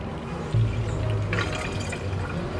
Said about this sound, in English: And we add a liter of water.